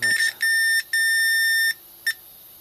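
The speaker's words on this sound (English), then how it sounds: "So I've just got the multimeter on continuity mode, and I'll put one end on our antenna, one on our center pin" A multimeter set to continuity mode beeps while its probes touch the parts of a 433 MHz half-wave whip antenna, giving three clear tones of varying length and then a short final chirp, loud and close.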